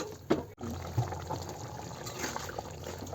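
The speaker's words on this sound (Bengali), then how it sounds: "এবার স্বাদ মতো পরিমাণ মতো অল্প করে জল দিয়ে দেবো।" Water poured in small measure into a chicken mixture cooking in a pan, a short close splash and trickle with low bubbling after.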